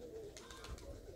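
Pigeons in flight above a rooftop dovecote give faint, soft cooing mixed with light chirps, heard at a distance against low background hum.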